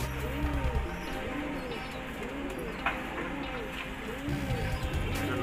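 Lalpati pigeons cooing, a repeated soft throaty coo recurring in a steady rhythm several times, close by, with faint background noise and brief chirps.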